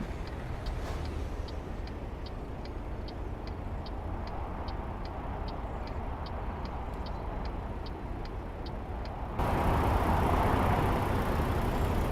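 Outside traffic in American Truck Simulator on Highway 95, with a steady engine and road rumble and a regular ticking like a turn signal clicking through most of the clip, the traffic noise growing louder near the end.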